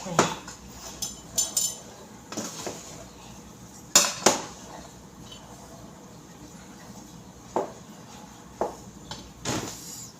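Metal spoon clanking and scraping against a very large cooking pot while ground meat is stirred, a string of sharp uneven knocks over quiet kitchen background, with a voice heard faintly at points.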